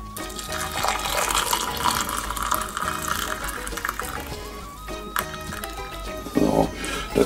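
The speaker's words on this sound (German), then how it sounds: "gieße das jetzt mit dem heißen Wasser auf" Hot water pours steadily over ginger in a container for ginger-lime tea, a continuous splashing gurgle with a few clinks near the end.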